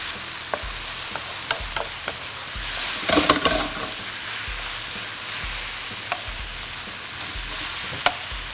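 Shanghai noodles and pork stir-fry in a wok, sizzling steadily while a spatula scrapes and clicks at intervals, with a louder burst of frying midway; no voices.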